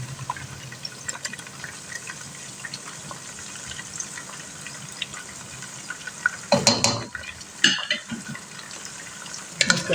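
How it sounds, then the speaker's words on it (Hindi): Ginger garlic paste added to chicken frying in a pan, giving a steady soft sizzle with scraping and stirring bursts near the end, close and alone without talk. "तो अब हम इसमें डाल देते हैं अदरक लहसुन का पेस्ट।"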